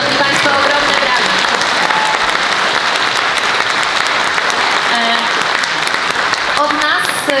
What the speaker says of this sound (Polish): Szanowni Państwo, ogromne brawa.